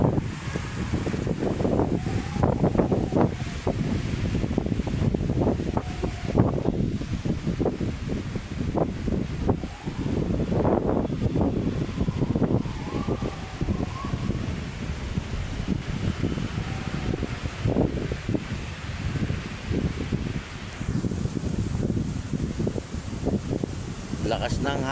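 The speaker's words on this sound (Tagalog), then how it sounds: "Napakalakas ng hangin." Strong wind at Manila Bay buffets the microphone in loud, gusty rumbles, with a faint voice murmuring under the roar.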